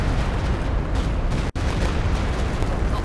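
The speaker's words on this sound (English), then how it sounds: "We're hearing Stuka here from Artavick." A Stuka dive bomber attack in a war strategy video game unleashes loud, rumbling explosion noise that fills the whole stretch, broken by one abrupt instant of silence midway.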